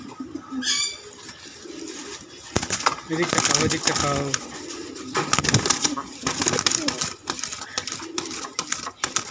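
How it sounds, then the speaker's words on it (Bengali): Mayurpankhi pigeons coo and flutter close by, their soft calls mixed with rustling and pecking sounds while a person talks over them. "এটা হচ্ছে ময়ূরপঙ্খী কবুতর"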